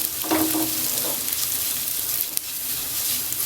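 Ground spice masala for moong dal kachori frying in a pan, a close, steady sizzle with a brief stirring scrape near the start, continuous and fairly loud.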